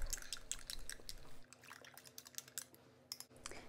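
Dry baker's yeast is stirred into lukewarm water, a faint close run of quick light clicks and wet taps from a spoon against a bowl, with no talk.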